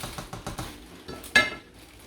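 A lid set onto a pan of simmering chowmein noodles in a home kitchen, a few light taps then one sharp metallic clack, close and brief.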